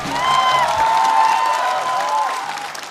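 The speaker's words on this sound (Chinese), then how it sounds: "鼓掌一下。" Short burst of studio audience clapping and crowd noise at a Chinese roast comedy show, steady and fairly loud before tapering slightly.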